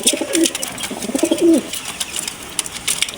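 Huma pigeons coo nearby in soft, throaty bursts, two rolling calls with brief pauses, alongside faint chirps and clicks in the background.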